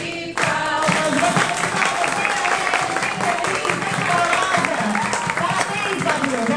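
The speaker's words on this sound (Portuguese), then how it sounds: "Parabéns pra você e uma salva de palmas." Applause and cheering at a school director's birthday celebration, a lively crowd clapping steadily under festive voices and music.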